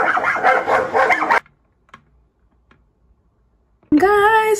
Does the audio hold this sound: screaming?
no